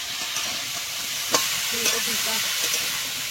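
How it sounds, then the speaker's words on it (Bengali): Cauliflower and potato frying in a pan, a steady sizzle with occasional scrapes and knocks as the pieces are stirred, close and continuous. "ফুলকপি আলুটা কিছুটা ভাজা হয়ে গেছে"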